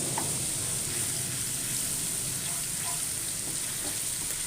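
Red whole chillies and sliced green chillies sizzle in hot oil in a pan for dhaba-style white mash daal, a steady dense crackle with a few small pops, close and continuous with no talking.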